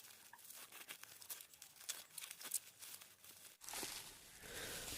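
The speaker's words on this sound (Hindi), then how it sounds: "बेबल रबर को मैं पहले जल्दी से हटा लेता हूँ।" Bubble wrap is pulled off a small Matlek 2.4G wireless keyboard, with a close run of crinkling and crackling plastic followed by a longer steady rustling sweep.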